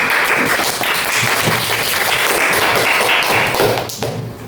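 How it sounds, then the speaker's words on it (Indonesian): A room of people claps steadily at a group discussion session, loud and continuous, tapering off near the end. "kasih tepuk tangan dulu"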